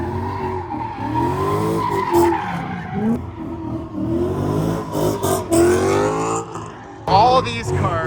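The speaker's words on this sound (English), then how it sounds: "All these cars in this Optima area here are being ripped out on the track." Cars skid around the Optima track at the SEMA show, with squealing tires and engines revving over and over in bursts. Excited voices talk over the noise.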